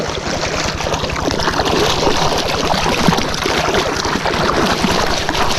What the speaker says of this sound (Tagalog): ay ayun umandar pa yung makina natin